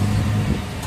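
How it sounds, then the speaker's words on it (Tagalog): A Toyota Rush engine, opened up for brake repair work, runs close by in a brief, steady low rumble with no voices over it. "Pa-start ko muna itong makina mga boss."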